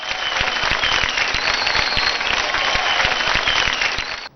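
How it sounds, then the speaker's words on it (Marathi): Loud, sustained applause for an orchestra band at a televised singing show, dense clapping from a studio audience running steadily for about four seconds before cutting off abruptly. "एकदा जोरदार टाळ्या होऊन जाऊ दे."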